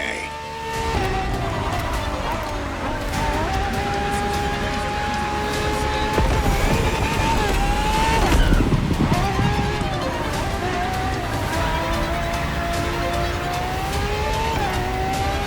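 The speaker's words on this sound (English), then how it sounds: "for this second lap, you'll be driving the FXXK" A Ferrari FXXK, a laboratory-enhanced LaFerrari, racing a lap in The Crew Motorfest, its engine droning and rising and falling through gear shifts at steady loudness, with occasional tire noise and no break in the sound.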